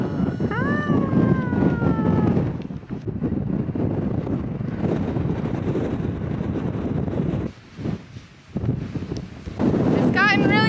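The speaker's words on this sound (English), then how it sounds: "It's gotten really windy up here." Strong wind on the mountaintop of Pip Ivan, Ukraine, buffets the microphone in loud, roaring gusts, briefly dropping away before surging back, with faint voices underneath.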